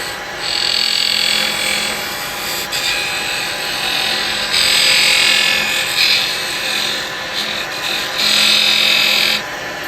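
A carbide chisel cuts a spinning wooden basket weave bud vase on a lathe, giving a steady, close, fairly loud scraping hiss with a constant motor hum beneath, swelling in bursts as the tool bites.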